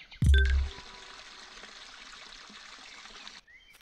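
Crops being watered in the farming game Harvest Days: a sharp thud opens into a steady, soft stream of pouring water that runs for about three seconds and then cuts off, followed by a faint light tone.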